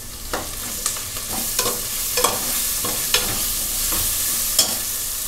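Onions and green chillies frying in a pan while being stirred, a constant close sizzle punctuated by regular spatula scrapes roughly every half second to second.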